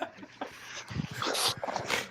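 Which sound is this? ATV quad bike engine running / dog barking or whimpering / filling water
dog barking or whimpering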